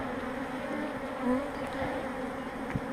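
Honeybees buzz steadily in an opened hive, a dense, continuous drone heard close with a few louder passes of individual bees.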